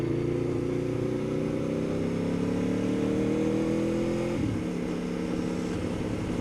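A 2011 Aprilia Tuono V4 APRC motorcycle engine revs steadily with layered harmonics rising slowly, then the pitch drops near the end; loud, continuous and close, with no talk.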